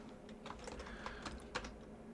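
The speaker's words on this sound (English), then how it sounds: "just click on the little search button and start typing in" Quiet clicks from typing on a computer keyboard into a Windows search box. The keystrokes come in a light, uneven run close by, alone and fairly faint.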